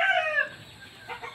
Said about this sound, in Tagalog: Ito mga tandang to eh.